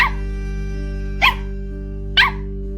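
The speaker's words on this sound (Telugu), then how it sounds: "కుక్క అరుస్తుంది?" A dog barks three times with short pauses, over a steady low electrical hum in the background.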